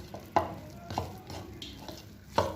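A spoon stirs soft katlama dough paste in a bowl: a few sharp scraping knocks against the sides spaced unevenly, with soft wet smearing between them, close and fairly loud with no talk.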